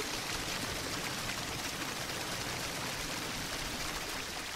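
Continuous broadband rushing of falling water, steady and dense like a waterfall, with no other sounds or voices.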